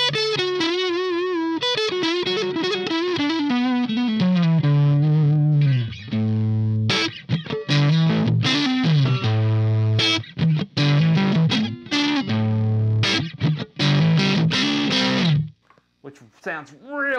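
Electric guitar on the neck pickup through a Dr.Z Carmen Ghia amp, playing bluesy phrases with bent, sustained notes and short picked runs, loud and up close, trailing off into a brief pause near the end.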